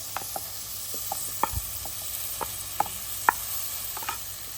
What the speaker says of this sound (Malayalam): വേവിച്ച് വെച്ചിരിക്കുന്ന ലിവറും ഇട്ട് കൊടുക്കാം.